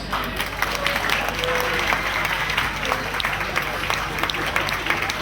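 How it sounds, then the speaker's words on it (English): An audience applauds steadily at a prize-giving during the 2008 ALRC National Rally, a sustained dense clapping from a crowd lasting throughout with no break. "Round of applause please."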